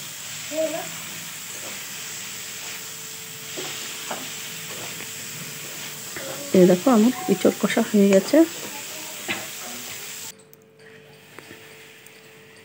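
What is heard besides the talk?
young jackfruit frying with spices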